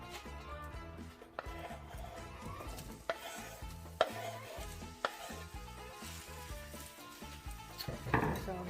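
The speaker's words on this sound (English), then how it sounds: "So I'm going to fry this until it is golden brown." One large onion frying in olive oil in a pot, a soft continuous sizzle with stirring scrapes and occasional sharp knocks of a utensil against the pot, close and fairly quiet.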